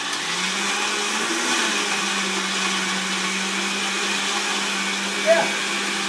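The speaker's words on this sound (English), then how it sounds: "what I think I might have to do is a quick little blend here just to get things going" A blender whirs through a raw chocolate smoothie in a home kitchen, a loud, steady motor whine held for several seconds with a faint brief voice near the end.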